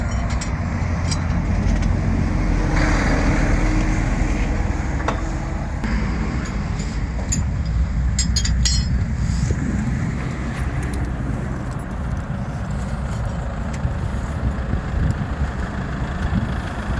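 A large DAF wrecker tow truck idles steadily at a roadside winter breakdown scene, a continuous low diesel rumble with a broad hiss of passing traffic and wind, fairly close and constant throughout.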